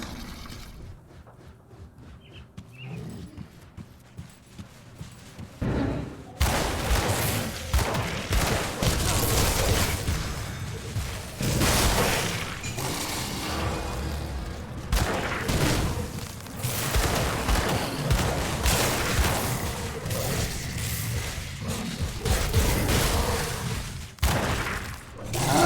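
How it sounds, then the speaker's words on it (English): Pistol shots crack repeatedly through a video game battle, loud and fairly close, sounding in quick irregular bursts amid explosions and combat noise after a quieter opening. "I'm firing the pistol"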